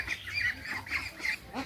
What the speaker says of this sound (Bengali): তো দেখেন, রাফাকে দেখে কিন্তু হাঁসগুলো অত বেশি ভয় পাচ্ছে না।